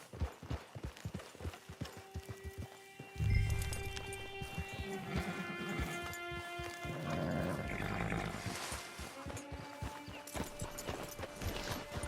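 Rapid horse hoofbeats in the video game Red Dead Online clop at first, then give way to a low rumble, lingering animal-like noises and a thin background tone.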